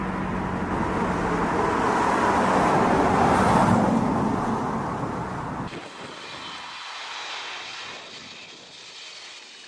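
Passenger airliner engine noise on a flight toward Istanbul, a loud broad steady roar that swells and then drops abruptly to a thinner, quieter hum partway through.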